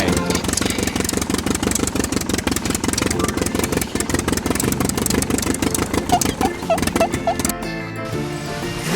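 A tractor engine idles steadily and close by, rumbling with a regular chugging pulse, loud and continuous throughout.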